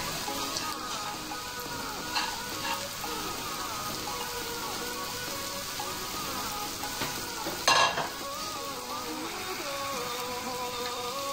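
Bitter gourd frying in a pan as brinjal pieces are added, a continuous close sizzle with a few stirring scrapes and one brief louder clatter partway through.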